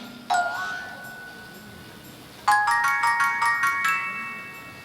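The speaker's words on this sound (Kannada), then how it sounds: "ರಿಂಗ್ ಆಗ್ತಾ ಇದೆ." A phone ringtone plays close and clear: one tone, a pause, then a run of bright repeating chimes that step upward in pitch.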